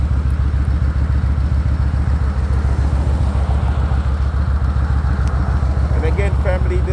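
A big Kawasaki Vulcan VN 2000 motorcycle of over 800 pounds, fitted with a car tire on the rear, runs steadily up close with a deep, even engine thrum throughout. A brief higher whine joins near the end.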